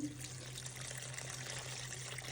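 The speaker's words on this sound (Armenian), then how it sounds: "Ես վրանք ավելացնեմ սառը ջուր, այնքան որ իրեն ծածկի" Cold water running steadily over broccoli and tarragon in a bowl, a continuous soft splashing stream that stays even from start to finish, with a constant low hum beneath it and no talking.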